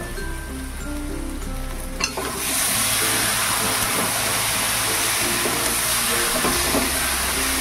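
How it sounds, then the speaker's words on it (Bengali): Boiled mung dal stirred in a hot pan, a quiet stretch with a faint hum that turns into a loud, steady sizzle after a sharp clank, continuing evenly to the end. "ডালটা দিয়ে আমি প্রায় 1 মিনিটের মধ্যে একটু নাড়াচাড়া করলাম"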